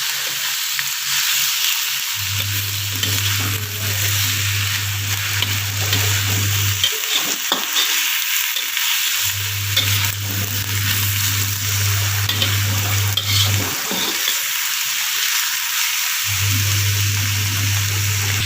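Small pieces of chicken breast stir-fry in a pan with a loud, steady sizzle and scraping stirs, while a low steady hum comes and goes in long stretches underneath, no voices.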